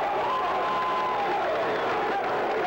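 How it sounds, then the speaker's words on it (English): A home crowd cheers at a 1986 high school football game between Cape and Ironton, a steady, dense roar of many voices and scattered clapping at a distance, continuous throughout. "Edwards out to the 39, and his crowd comes to life again"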